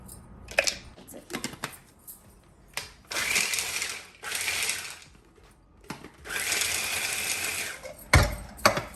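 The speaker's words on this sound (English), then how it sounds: "grinding dry fruits for garnishing" An electric grinder whirs in two bursts of a few seconds each, grinding dry fruits for a kheer garnish, with clicks and handling noises in between, close and alone without talking.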